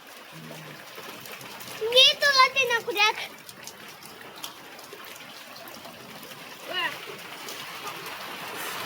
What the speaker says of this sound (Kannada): ಮಳೆನ ಅಟ್ಟೇನು ಜೋರ್ಕತ್ಲೆ ಇಲ್ಲ